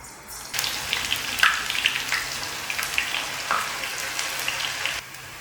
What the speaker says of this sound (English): I deep fry poppadums, which are such a must to have for Onam, and then continue using the same oil to deep fry bananas